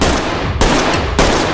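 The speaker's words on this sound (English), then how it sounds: "The enemy shot her." Three loud, close gunshots ring out in the tactical shooter Ready or Not, evenly spaced about half a second apart, each a sharp broadband crack with a ringing tail.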